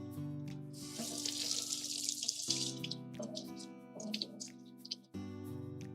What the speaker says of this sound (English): Rinse the knife.